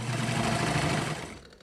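An old Nelco sewing machine runs under foot-pedal control, a steady, close whirring motor hum with rapid needle clatter that slows and fades as the pedal is released.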